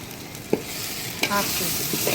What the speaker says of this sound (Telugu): మొత్తం ఫ్రై చేయాలి.